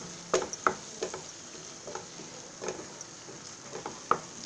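Masala frying in oil in a pan for an egg curry, a soft sizzle with irregular clicks and spoon taps scattered through, moderately close with no talking.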